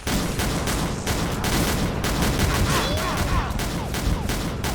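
Rapid, continuous automatic fire from the God Guardian gun in a Team Deathmatch round of the shooter XSHOT, loud and close, with dense overlapping shots throughout.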